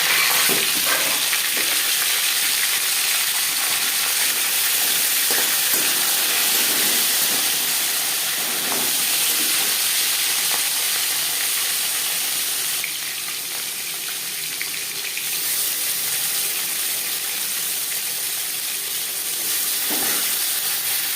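A katla fish head fries in hot mustard oil, producing a loud, steady, close sizzle and spattering hiss that continues without a break or any voices.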